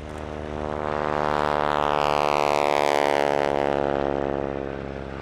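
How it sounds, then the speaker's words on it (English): A North American NA64 Yale, a vintage propeller trainer, on its takeoff roll at an airshow: a loud droning piston engine with a steady harmonic buzz that swells as it passes close by, then fades slightly, with a shifting pitch. "here it is, on the roll, the North American NA64 Yale"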